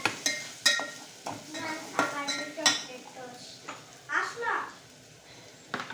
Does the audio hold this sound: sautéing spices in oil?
yes